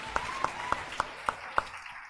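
Six slow, evenly spaced claps ring out in a small indoor gathering, a sparse, rhythmic round of applause rather than a full ovation.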